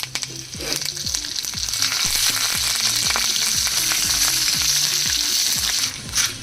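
Curry leaves and broken dried red chillies crackle and sizzle in hot tempering oil for a methi leaf chutney, a loud, dense, continuous spatter close by, with light stirring clicks and no voices.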